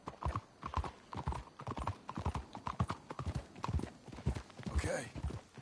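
Horses in Red Dead Redemption 2 trot along with a steady, rhythmic clip-clop of hooves, close and clear, with a brief whinny near the end.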